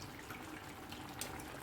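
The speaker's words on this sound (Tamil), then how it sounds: "அந்த தண்ணி இதில் சேர்த்து கலக்கி பருப்போடு சேர்த்து விட்டுறலாம்." Tamarind water pours into cooked dal for sambar with a faint, continuous splash and trickle, close by and with no talk.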